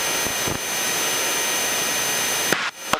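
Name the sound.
small airplane engine at cruise in flight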